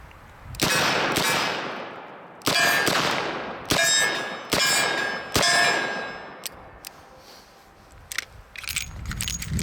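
Smith & Wesson 686+ seven-shot revolver firing .38 Special rounds at an outdoor range, six loud, sharp shots spaced about a second apart, each with a ringing metallic tail, then fainter distant pops.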